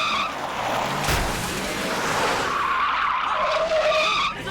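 A car reversing with its tires skidding and squealing loudly, producing continuous screeching friction noise with engine roar throughout, close and intense.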